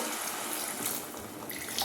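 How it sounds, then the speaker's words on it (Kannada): A soft, steady splash of water being poured into a pan of cooking eggplant, close and quiet, with no voices. "ಈಗ ನಾನು ಸ್ವಲ್ಪ ಬೇಯಲಿ ಅಂತ ಸ್ವಲ್ಪ ನೀರು ಹಾಕ್ತೀನಿ"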